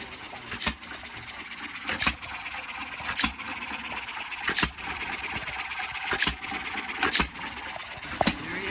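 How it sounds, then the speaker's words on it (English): A 1937 John Deere hit-and-miss engine drives an ice cream maker, firing sharp, loud exhaust pops at uneven intervals of about one second over a steady mechanical churning hum. "1937 hit and miss John Deere ice cream maker"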